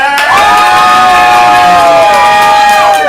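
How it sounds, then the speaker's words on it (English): A loud crowd at a ComedySportz improv comedy show in Portland cheers for the red team, a sustained wall of shouting and whooping voices that rises quickly and holds at full volume throughout. "If you want the red team to get points, cheer now."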